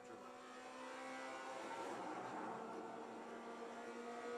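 A Forza Motorsport race car drones and builds in a sustained engine whine with harmonic layering, swelling slightly midway. It sounds distant and low in level, with no talk.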